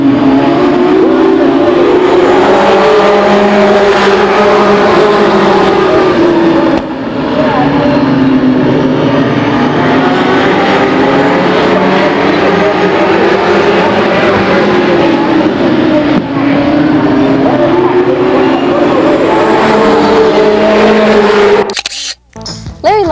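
Race cars at the start of a 1993 race at Lake Geneva Raceway, a loud continuous roar of many engines rising and falling as the pack passes, sustained throughout before cutting off abruptly at the end.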